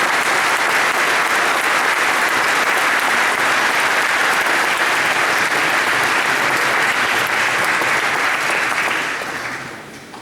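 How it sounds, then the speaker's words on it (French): A church congregation applauds young people with steady, dense clapping that lasts about ten seconds, then starts to fade at the end. "On peut aussi acclamer nos jeunes"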